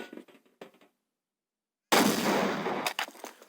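A grenade blast in the Half-Life video game, used to launch the player into the air: after a short burst of game noise and a second of silence, a loud, broad explosion bursts in and rumbles on, followed by a few sharp cracks.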